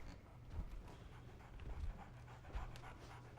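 A dog pants close by in quick, rhythmic breaths with soft low thumps, faint and steady throughout without speech.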